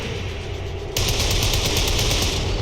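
Sniper rifle fire in a video game, a sudden loud onset at about one second into sustained rapid, rattling shots against a dense background of battle noise, with no talk.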